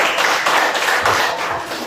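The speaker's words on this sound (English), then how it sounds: "let's give the group 2 a round of applause, guys." A Grade 10 class gives a short round of applause for a student group, a brief dense patter of many hands clapping at once, close and steady.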